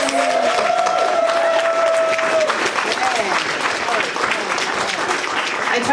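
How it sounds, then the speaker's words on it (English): A closing round of applause from the audience at a university diaspora forum, steady dense clapping with some cheering, voices faintly mixed in throughout. "let's do one final round of applause"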